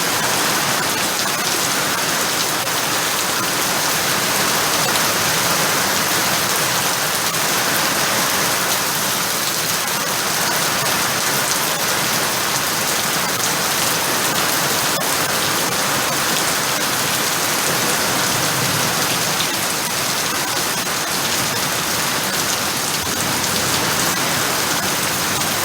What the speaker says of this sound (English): Show you how much rain we get down here.